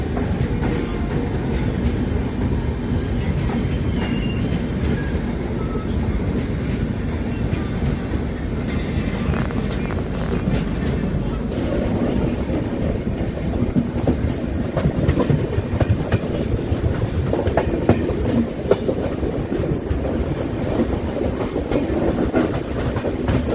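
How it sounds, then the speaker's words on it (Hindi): Amrapali Express 15708, a superfast passenger train bound from Bandra Terminus toward Amritsar Junction, runs along Indian Railway tracks with a steady close rumble and rhythmic clickety-clack of wheels over rail joints, with no talking. "सुपरफास्ट एक्सप्रेस बांद्रा टर्मिनस से अमृतसर जंक्शन की ओर जाने वाली"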